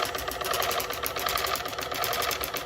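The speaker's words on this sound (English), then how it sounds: "You can kind of hear the pump working." A small water flosser pump motor runs steadily with a continuous buzzing whir, close and fairly loud, with no talking.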